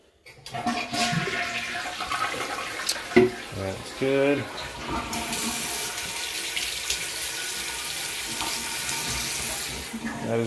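Water running from a tap in a house during an inspection, a steady rushing flow that swells into a toilet-flush-like gush and continues evenly for several seconds, with a person speaking briefly near the start.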